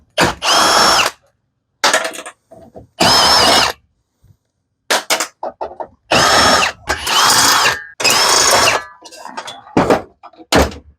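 A power drill runs in short, loud bursts with pauses between them while backing out 8 mm bolts from a metal pan under the dashboard of a Crown Victoria, Grand Marquis or Town Car.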